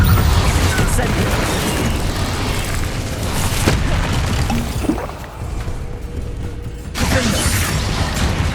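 The Incendio fire spell being cast in Hogwarts Legacy combat, a dense, loud roaring whoosh with booming and mechanical creaks that continues over most of the clip and drops briefly before surging again.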